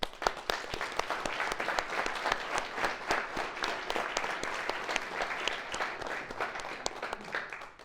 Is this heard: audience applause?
yes